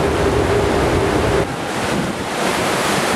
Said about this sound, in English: You can hear the engines and the propellers.